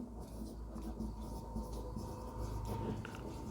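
Marker or chalk writing on a board during a biology lesson on plant anatomy, a soft continuous scratching and tapping close by over a low background hum, with no talking.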